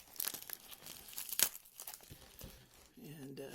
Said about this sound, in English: Let me use this knife to start this package open